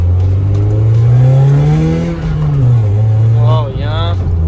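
BMW E30/E36 with a short throw shifter accelerating on the road, a loud steady engine drone rising in pitch and then dipping with a gear change, heard from inside the car.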